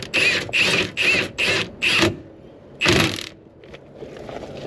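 An impact gun runs up nuts on Peugeot 108 suspension, hammering in five short rattling bursts followed by one longer burst, close and loud, with brief pauses between them.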